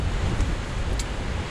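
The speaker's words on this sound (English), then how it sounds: "it's just so windy" Steady, heavy wind buffeting the microphone with a constant low rumble and no break, close and loud, at a campsite with an MSR Hubba NX tent in bad weather.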